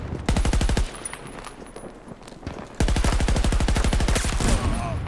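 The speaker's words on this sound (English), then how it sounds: "Getting a ton of kills with the suppressor there." Rapid bursts of suppressed automatic gunfire from Battlefield 2042 rattle out in two long strings, separated by a brief lull with scattered shots.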